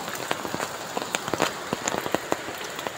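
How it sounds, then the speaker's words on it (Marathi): Heavy rain pours down on a Konkan village, a dense steady patter of drops striking surfaces close by, with sharper individual splats scattered through it. "आज जोरदार पाऊस पडतोय गावाला पण"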